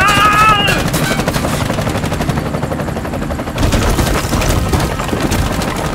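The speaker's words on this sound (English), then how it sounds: "I'm under heavy fire." Heavy gunfire from the video game Bright Memory Infinite: loud, dense bursts of shots and explosive booms fill the whole stretch with a constant roar, joined by a brief tonal alarm-like sound at the start.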